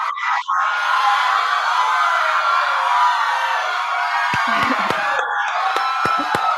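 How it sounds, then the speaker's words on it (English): A crowd applause sound effect plays loud and sustained, a dense wash of clapping mixed with cheering and whoops that runs the whole time, with a few sharp thumps near the end. "can you hit me with the applause, please? Can I get some applause?"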